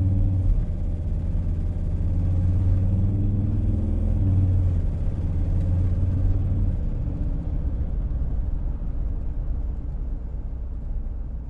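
A Volvo XC90 diesel engine runs on a test drive, a steady low rumble of the moving car heard from inside at moderate level, fading slightly toward the end, with no talking.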